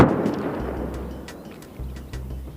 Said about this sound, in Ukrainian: Чути вибухи.